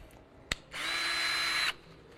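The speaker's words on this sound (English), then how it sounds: "Have a drill set up." A power drill fitted with a mixing head spins up to stir a two-part resin, running at a steady high-pitched whine for about a second before stopping, with a sharp click just before it starts.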